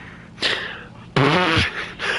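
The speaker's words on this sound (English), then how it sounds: "I had a fart again." A fart heard during a War Thunder gaming stream, two rumbling blasts over a constant background hum, the second longer and louder with a wavering low tone, close to the microphone.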